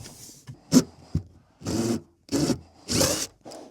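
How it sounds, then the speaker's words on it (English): Several short bursts of a power drill whirring, each a second or less, separated by brief pauses and a few clunks of handling, while replacing a bathroom exhaust fan. "I need a different drill."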